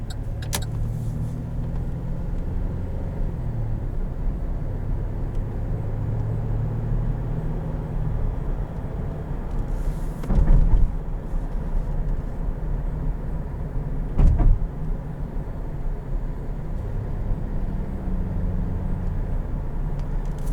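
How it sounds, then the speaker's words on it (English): A 2017 Chevrolet Traverse LT pulls away from a normal start. The engine hums low and steady from inside the cabin for a long stretch, with a couple of brief thumps along the way and no talking. "we'll see how the transmission does on a normal type start to get going"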